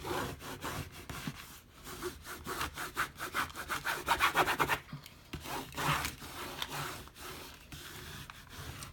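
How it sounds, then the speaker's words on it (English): Glitter vinyl being rubbed flat onto a canvas with the edge of a book, a steady scraping, sawing-like friction with repeated back-and-forth strokes, close and fairly loud, with no talking. "I'm going to slide that book to the very corner where I can rub good now"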